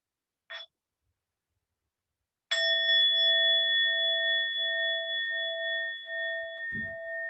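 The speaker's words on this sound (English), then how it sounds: "And I'll invite one sound of the bell." A meditation bell is struck once and rings out loud and close with a clear, sustained shimmering tone that hangs in the quiet room, preceded by a brief soft click and ending with a small low thump.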